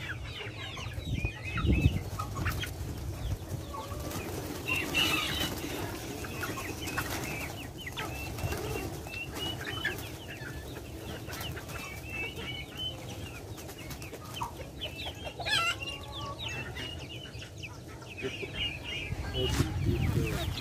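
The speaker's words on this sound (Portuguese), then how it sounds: "eu vou estar soltando os pintinhos que eu tenho preso aqui" Chickens cluck and chirp as young chicks are let out of a pen on a small farm, a steady mix of soft clucking and peeping under scattered talking and outdoor background noise.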